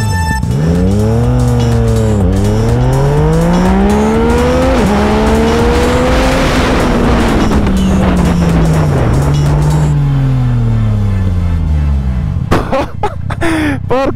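A Yamaha MT-09 SP motorcycle is accelerating hard at full throttle, its engine note climbing loudly through repeated gear changes, then easing off before a few final revs.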